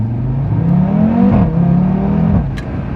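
Loud turbocharged car engine accelerating from low revs, its drone rising as boost builds, then dipping briefly and climbing again before easing off.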